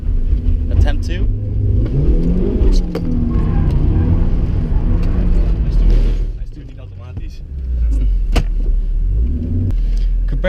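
A car with a welded differential revs hard toward the limiter, its engine note rising and falling in loud, close, rumbling surges over about ten seconds.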